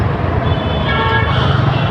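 Heavy road traffic near Lingampally, Hyderabad, heard from a motorbike: a loud, close rumble of engines and vehicles with a sustained car horn sounding through it.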